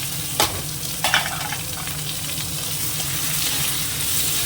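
Cumin, bay leaf and chopped onion frying in hot oil, a steady close sizzle broken by a couple of sharp pops and stirs as the ingredients hit the pan.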